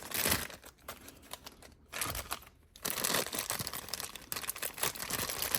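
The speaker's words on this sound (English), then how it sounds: "free them from their plastic" Plastic packaging around anime figures of Muichiro and Yuichiro from Demon Slayer crinkles and tears as they are unwrapped, with bursts of close crumpling broken by short pauses.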